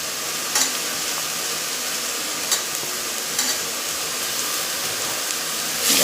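Mint leaves, curry leaves and coriander sautéing in a hot pan for mutton curry, a steady close sizzle and frying hiss with a few light stirring scrapes.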